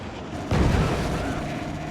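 A Magna cannon in a video game fires one heavy booming blast that swells suddenly and then rumbles on through a dense mix of game noise.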